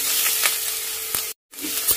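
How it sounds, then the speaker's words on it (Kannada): Onions fry in a pan for onion chutney, a bright close sizzle with faint stirring, broken by a brief cut to silence midway. "ಈರುಳ್ಳಿ ಟೇಸ್ಟ್ ತುಂಬ ಚೆನ್ನಾಗಿರುತ್ತೆ ಈ ಥರ ಹೋದರೆ, ಆದ್ದರಿಂದ ನಾನು ಈ ಥರ ಹುರಿಯೋದನ್ನು ತೋರಿಸ್ತಾ ಇದ್ದೀನಿ"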